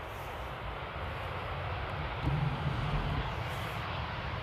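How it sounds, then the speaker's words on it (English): A landing airliner at rainy Amsterdam airport using its thrust reversers, a broad distant roar that swells slightly for a few seconds, then holds as a steady rumble. "That was 3 seconds of thrust reverse."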